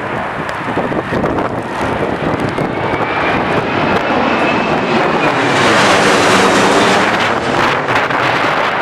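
An airplane landing on runway 23R at Manchester Airport in strong gusty wind from the tail of Hurricane Gonzalo, a loud continuous engine roar that swells toward the end, with wind buffeting the microphone throughout.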